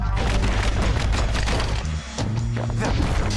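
A repeater gun in a video game spins up and fires a loud, continuous stream of crashing, booming shots with a brief dip partway through before firing resumes.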